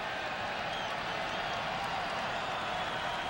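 A large baseball stadium crowd at a Pirates at Cubs afternoon game rises into steady, excited cheering and murmur, a dense continuous roar held at the same level throughout.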